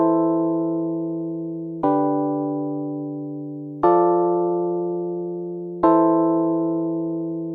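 Full chords from a MIDI track in Ableton sound without an arpeggiator, four sustained synth chords struck roughly every two seconds, each ringing and slowly decaying, with no voices.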